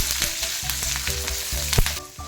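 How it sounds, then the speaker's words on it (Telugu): Garlic crackles and sizzles loudly in hot oil, with irregular pops and spatters throughout and no voices. "వెల్లిపాయలు కొంచెం ఫ్రై అయితే సరిపోతుంది"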